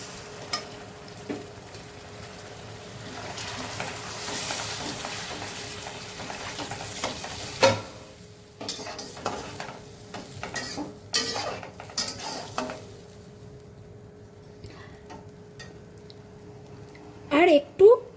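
Prawn curry being stirred in a pan after coconut milk goes in, with a soft steady sizzle and scraping of a spoon against the pot, occasional clinks, and a few louder utensil knocks near the end; voices talk intermittently over it.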